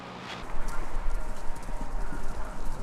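Horse race picked up on an AM radio in the Kentucky Route Zero video game, a steady patter of galloping hooves with a muffled broadcast texture at moderate loudness.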